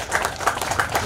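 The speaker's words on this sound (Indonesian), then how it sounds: "Kita berikan aplaus yang meriah Bapak Ibu." Audience applause at an outdoor civic bazaar and job fair event, a short patter of hand claps from a crowd, fairly close and steady.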